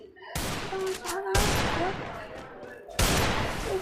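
Video game gunfire ending in a headshot: three loud, sharp bursts of rapid shots roughly a second apart, with game sound effects and a faint voice between them.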